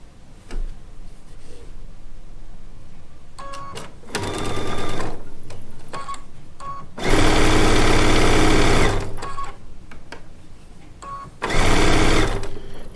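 Loud bursts of a sewing machine stitching charm pack quilt units together in a Disappearing 4 patch project, three runs of steady whirring broken by pauses with quiet handling and clicks between them.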